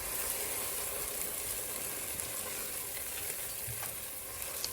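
Tomato-based shrimp soup being stirred in a pot gives off a continuous bubbling, sizzling hiss with faint scraping, close and steady, without any talking.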